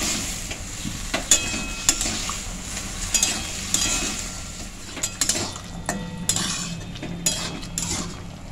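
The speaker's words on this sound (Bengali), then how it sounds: "এরপর সব উপকরণগুলো আমি খুব ভালো করে মিশিয়ে নিচ্ছি।" Spoon scraping and clinking in a pan while boiled potato, tomato and chickpeas are mixed in, with repeated sharp metallic knocks over a soft background sizzle.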